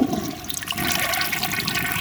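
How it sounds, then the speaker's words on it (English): A 1965 Southern Porcelain toilet flushing, a steady close rush of water filling the bowl for the whole stretch, loud and alone without voices. "I'm gonna flush it real quick"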